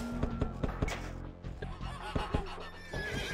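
Turkeys gobble and honk repeatedly in Age of Empires II gameplay, a dense, busy run of overlapping bird calls layered over steady game background sound.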